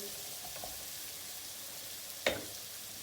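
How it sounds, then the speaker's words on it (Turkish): Eggplant and peppers are sautéed in a pot, a soft, even sizzle heard up close and fairly quiet, with a single sharp utensil knock partway through and no talking. "Biberle beraber de kavurmaya devam edeceğiz."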